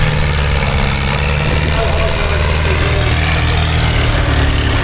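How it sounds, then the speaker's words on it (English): A big American tractor engine rumbles steadily at low speed at a steam rally tractor parade, a deep continuous chugging throughout. "American tractor, big, powerful, very typical."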